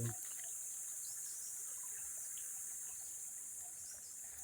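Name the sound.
river water flowing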